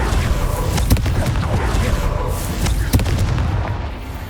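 Spell explosions from the Confringo fire curse in the video game Hogwarts Legacy, with heavy booming blasts at two clear moments over a dense rumbling battle wash that fades toward the end.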